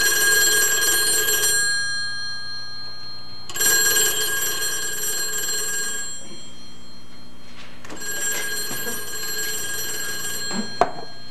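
A telephone ringing on the line after a call is placed through an operator, three long electric ring bursts separated by pauses, fairly loud and clear with no talking.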